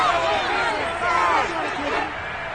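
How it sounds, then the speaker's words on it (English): A large stadium crowd at a football game roars steadily during a two-point conversion attempt, with a broadcaster's voice talking over the noise. "Listen to this crowd now."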